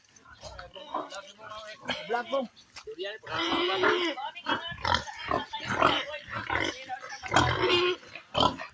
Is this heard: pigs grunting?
yes